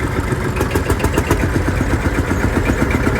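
Vintage Marshall tractor engine idling at a tractor show, a loud close single-cylinder chug with a steady rapid knocking beat and no talk.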